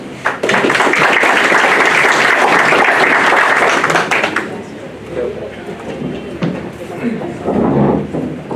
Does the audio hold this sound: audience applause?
yes